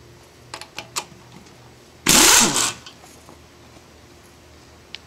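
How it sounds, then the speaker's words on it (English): Pneumatic impact gun removing car wheel lug nuts during a brake job, a single loud ratcheting burst of about three quarters of a second preceded by a few light clanks, close by. "we're going to use the impact gun to get the lugs off the tire"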